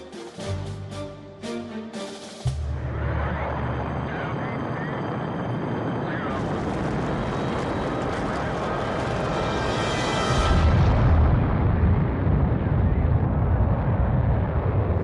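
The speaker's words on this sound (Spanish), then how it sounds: "antes de desaparecer en una bola de fuego. Fue la explosión más bonita del mundo." The experimental Vanguard rocket explodes into a fireball at launch, a loud sustained roaring rumble that swells and grows heavier toward the end, following a brief burst of other sound at the start.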